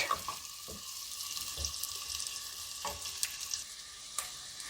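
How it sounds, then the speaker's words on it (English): Carrots and onions frying in a pan for lasagna while being stirred. A continuous crackling sizzle sits close and fairly loud, broken by a few sharp scrapes and clatters from the stirring. "So put your carrots and onions and then stir."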